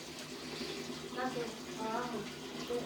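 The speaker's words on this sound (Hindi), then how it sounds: "उसके बाद हमने इसको प्ले कर देना है तो ये दोबारा से ये देखें पानी आना शुरू हो जाएगा।" Water pours into a Haier HWM90 automatic top-load washing machine, a steady moderate gushing fill heard under a person talking.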